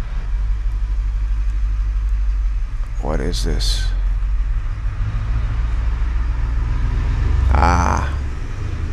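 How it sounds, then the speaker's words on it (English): A large UPS delivery truck drives past outside, a low steady engine rumble throughout that swells slightly toward the end, heard under a man's speech. "Some big truck coming here."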